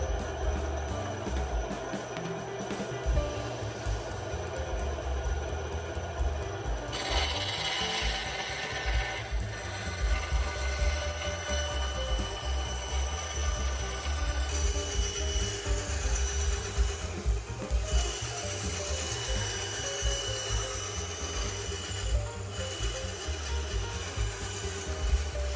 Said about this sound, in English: I carefully cut the garden stakes in half using my bandsaw.